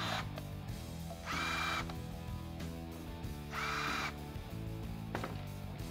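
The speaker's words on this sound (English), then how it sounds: "just take your drill bit and mark the board" A power drill whirs in two short bursts against a wooden board, with soft tapping and handling sounds between them, fairly quiet and nearby.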